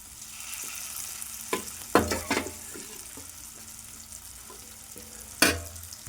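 Elephant foot yam, boiled with salt and then spiced, fries with curry leaves: a soft steady sizzle in a pan, with a few sharp clinks and scrapes from stirring.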